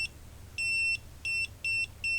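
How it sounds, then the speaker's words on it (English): Ultrasonic distance sensor module's alarm buzzer gives four steady high-pitched beeps in a fairly even rhythm, close and clear over a faint low background hum, with no talking. "the alarm starts beeping"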